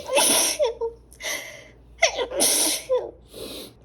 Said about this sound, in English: But I gotta sneeze again.